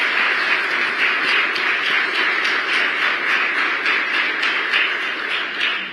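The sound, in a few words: audience applause for the Treasury Secretary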